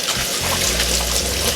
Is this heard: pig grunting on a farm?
no